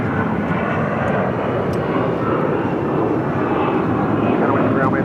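An Air Canada Airbus A320-200 at Phoenix airport, heard as a steady jet engine drone beneath someone talking throughout.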